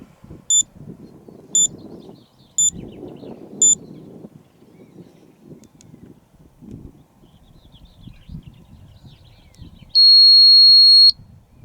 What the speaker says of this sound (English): That's the beeper.